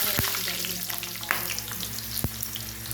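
Eggplant sizzles in hot oil in a pan for binagoongang talong, a constant close crackling hiss with a few sharp pops and scrapes, and no talking.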